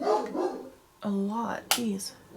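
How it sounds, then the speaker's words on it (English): A pet dog barks indoors in a few loud, sharp bursts, with someone talking briefly before and between the barks. "That's my dog. He's barking."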